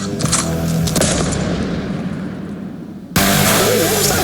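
Gunshot sound effect placed over a slow-motion moment in a football video edit, a loud burst with a booming tail, a brief dip, then a sudden second loud hit near the end.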